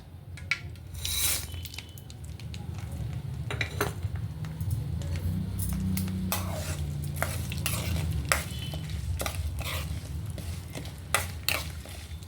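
Mustard seeds, chana dal, urad dal and cumin crackle and sizzle in hot oil, with frequent metallic clinks and scrapes of a spoon against the pan.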